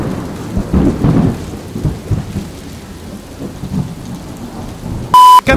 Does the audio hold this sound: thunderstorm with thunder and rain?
yes